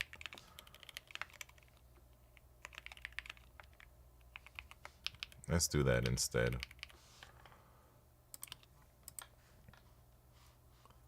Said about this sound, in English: Wait, what am I typing here